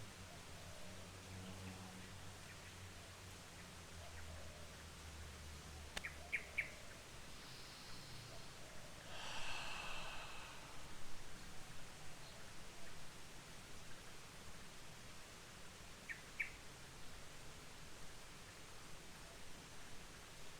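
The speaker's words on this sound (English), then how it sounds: "I hope you can hear the birds in my garden." Faint birdsong in a garden with a few scattered chirps and tweets, set against a steady hiss of outdoor background noise.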